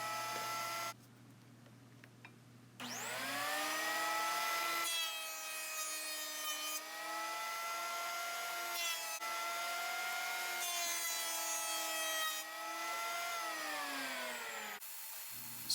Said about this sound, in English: we're going to move over to the planer and make sure that those are smooth